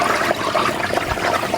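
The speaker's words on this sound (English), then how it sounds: "take my butane, flip it upside down, and push it on the bottom of this bowl, and it's gonna create bubbles" Butane gas from an upturned canister pushed against the bottom of a bowl of water bubbles up in a steady, close, gurgling rush with no pauses and no voices.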